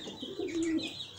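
Pigeons coo at a pigeon loft, one soft rolling coo that swells in the middle of the moment and fades, close by against a faint outdoor hush.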